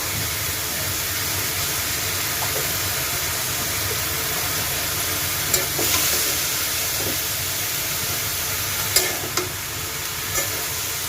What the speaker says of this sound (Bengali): যেহেতু আমি লাল শাকে রান্না করতেছি ট্যাংরা মাছ দিয়ে